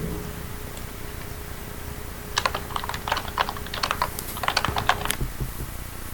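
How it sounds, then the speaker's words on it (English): Typing on a computer keyboard, a quick run of close, sharp key clicks starting partway in and stopping abruptly, over a steady low hum with no talking. "I muted you because like you were typing"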